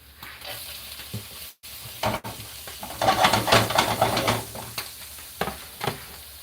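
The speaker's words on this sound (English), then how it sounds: "This is the pan that the carrots are going in now." Julienned carrots frying in oil in a pan, giving a close, steady sizzle that swells louder midway, along with stirring scrapes and a few sharp clatters.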